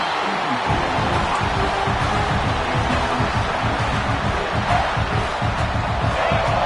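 Stadium crowd in the College Football 26 video game roars loudly and continuously, a dense mass of cheering and shouting voices filling the space at a steady high level.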